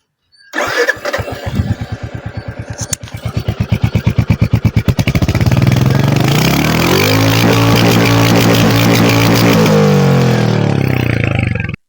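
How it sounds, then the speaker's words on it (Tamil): A Royal Enfield Hunter 350 motorcycle cranks and fires up, then idles with a steady thumping single-cylinder exhaust beat before settling into a loud, continuous rumble up close, with no talking. "ஸோ எக்ஸாஸ்ட் நோட் எப்படி இருக்குன்னு கேட்போம்."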